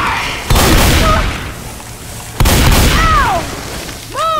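Gunfire in Left 4 Dead 2: two heavy booming shot bursts a couple of seconds apart, each followed by a ringing tail, with short whistling game sounds in between.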